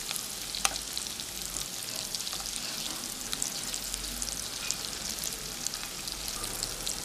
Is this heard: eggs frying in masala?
yes